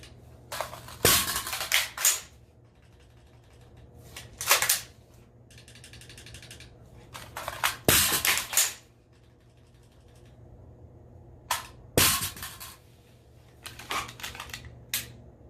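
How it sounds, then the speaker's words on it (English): A pistol drawn from a battle belt makes repeated dry-fire clicks and rattling holster and handling sounds in sharp separated bursts, close, with quieter shuffling between them. "We'll just do a quick little dry fire."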